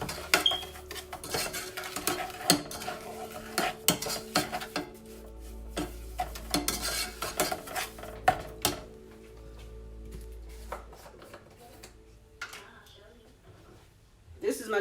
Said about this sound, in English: I'm going to add my brown sugar. And we're going to give that a good stir.